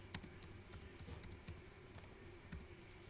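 Typing on a computer keyboard while entering a variable label in statistics software, a quiet run of light, irregular key clicks with a few sharper taps, close and alone.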